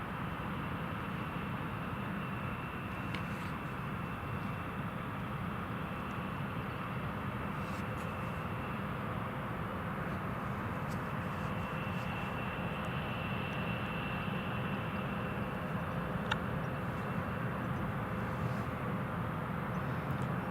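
A British Airways airliner passes in mist at Newcastle Airport, a faint, steady distant engine drone and hiss holding evenly throughout without any clear approach or fade.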